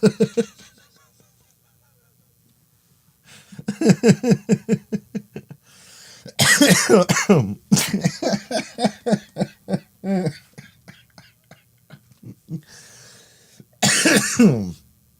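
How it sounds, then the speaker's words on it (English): Several harsh coughs and throat clearing in close bursts, mixed with a person talking between them, with a long quiet stretch at the start. "so my apologies for the coughing"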